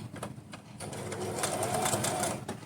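A sewing machine runs steadily while stitching a small cap for a doll's winter outfit, a continuous close mechanical whir with faint rhythmic ticking throughout.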